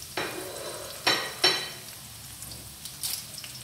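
White parts of green onion tossed into a hot pan for mutton spring roll filling, a few sharp sizzling bursts and spatula scrapes over a low, steady frying hiss.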